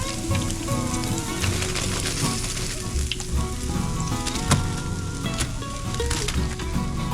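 Redfin pickerel pieces frying in a pan, a loud, dense, continuous sizzle with crackling pops scattered throughout, close up and without any talk.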